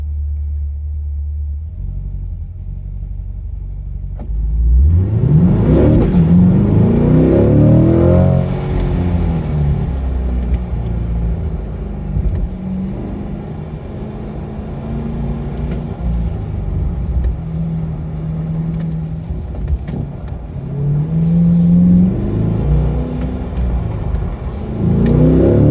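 A C8 Corvette on a practice run accelerates hard down the straightaway, its engine surging from a low idle into a loud, rising roar that holds steady, then climbs again near the end.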